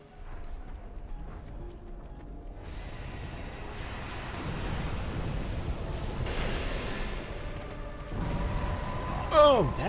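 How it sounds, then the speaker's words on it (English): A boss in the video game Dark Souls 2 unleashes explosion attacks, heavy rumbling blasts and clattering impacts building over several seconds and ending in a sharp burst near the close, with no talking. "Oh, that explosion move kind of sucks."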